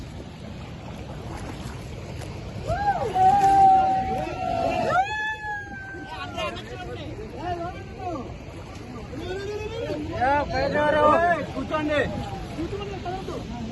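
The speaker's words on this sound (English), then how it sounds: "Boat ride." Boat ride on the water near Chitrakoot Waterfalls: a steady wash of water and wind runs throughout, beneath a crowd of passengers talking and calling out.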